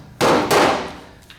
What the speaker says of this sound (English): I have my body hammers